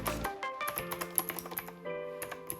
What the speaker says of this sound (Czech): Pro tento typ klávesnice zde byly použity mechanické spínače s názvem Cherry MX Blue.